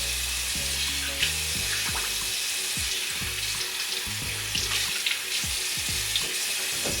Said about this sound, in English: Now we're ready to rinse.